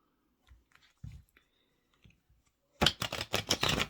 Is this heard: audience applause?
no